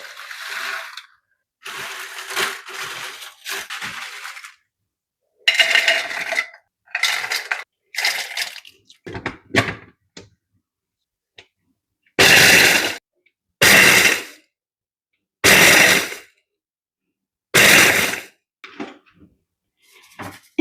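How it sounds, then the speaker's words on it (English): A blender grinds dried chili into flakes in a series of short, loud pulses, each a burst of rattling, crunching whir separated by silence, the earlier bursts uneven and quieter, the later ones strong and evenly spaced. "I show you how I blend my chili flakes"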